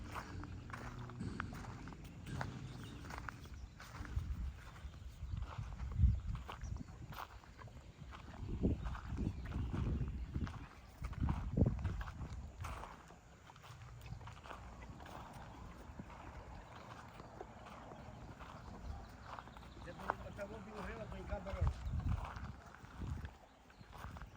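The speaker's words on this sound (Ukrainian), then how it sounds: "Такі коники." Horses, mares at a stable, walk about with hooves clopping irregularly on hard ground, fairly faint and spread out, with quiet background noise between steps.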